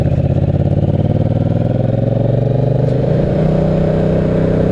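A Yamaha FZ-07 (MT-07) motorcycle engine with a loud stock exhaust mod, ridden during break-in, drones steadily and loudly, with a rising pitch that suggests gradual acceleration throughout, and no voices.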